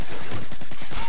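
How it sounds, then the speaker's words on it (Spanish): Dense, loud rapid gunfire fills the moment during a Call of Duty Modern Warfare 2 match, continuous bursts of shots with no talk. "estoy viendo disparos por aquí detrás"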